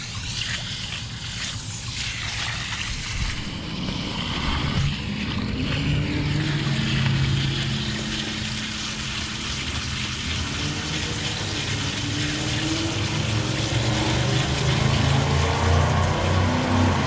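A loud vehicle passes outside with a rising and falling low engine rumble, heard over running water from a tie-dye shirt being rinsed in cold water.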